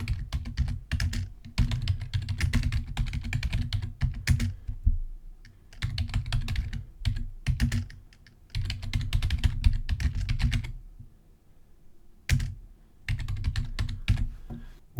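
A list of foods being typed on a computer keyboard: steady, fast runs of close clicking keystrokes with brief pauses between bursts, nothing else heard.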